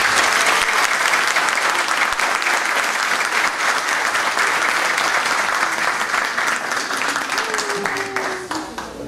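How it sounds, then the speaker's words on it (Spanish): A crowd at a leaders' day celebration gives sustained applause, a dense and loud wash of many clapping hands that holds steady for about nine seconds and fades slightly near the end, with faint voices mixed in. "para que puedas ver este aplauso de todo el mundo por todo lo que haces."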